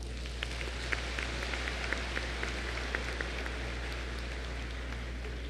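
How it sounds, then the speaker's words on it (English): Warm audience applause at a city mayor's State of the City address in Dagupan is heard as a faint, distant, even patter of many hands over a low steady hum, with no speech. "Another warm of applause."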